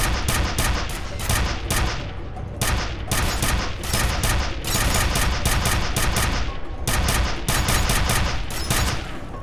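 Dense, rapid gunfire from the shooter game F.E.A.R., with bursts of automatic fire and overlapping shots in a loud, almost continuous barrage that runs without a pause.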